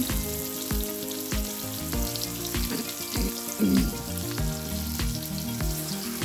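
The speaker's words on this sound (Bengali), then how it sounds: "এই যে পেঁয়াজ দিলাম পেঁয়াজ দিয়ে দিলাম" Onions sizzle steadily in a hot pan for a spicy chicken curry, a close, continuous frying crackle with a few louder bursts and a sustained tonal backdrop like music.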